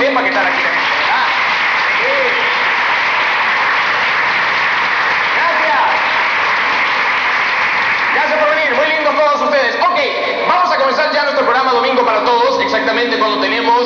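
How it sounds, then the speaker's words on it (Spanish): Studio audience applause at a live Sunday variety television broadcast from 1987, steady dense clapping throughout, with voices and music-like tones rising over it in the second half. "que quiero que aplaudan para que la gente sepa que están aquí."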